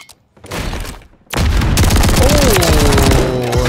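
Automatic shotgun fire in a first-person shooter game, a brief burst then a sustained rapid string of heavy blasts layered with game sound effects, loud and close.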